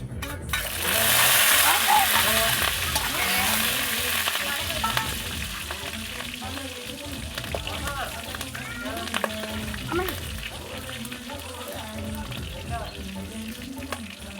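Food roasts in a hot pan with a loud, continuous close sizzle that stays steady throughout, while a voice carries on underneath.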